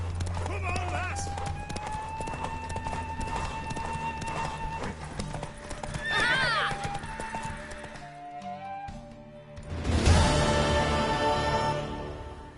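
Hooves pound in quick rhythm as a horse runs in The Witcher 3: Wild Hunt, with a whinny rising partway through; voices talk over the action and music plays beneath.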